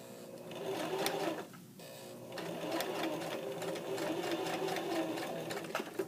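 A sewing machine stitches a pant pocket seam with a steady mechanical whir and rapid needle chatter. It pauses briefly once, then runs on at a constant pace, close and clear.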